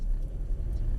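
A Mercedes car climbing a hill with a touch of gas, a steady low engine and road rumble heard from inside, brief and fairly quiet.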